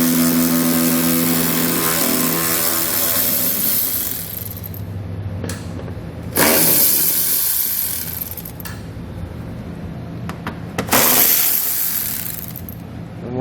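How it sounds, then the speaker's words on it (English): A 10mm socket ratchets bolts out during a trailer hitch receiver install on a 2014 Toyota Highlander, with clicking and clanking handling noises over a steady background hum and a couple of louder metallic scrapes. "We're going to pull all the bolts out."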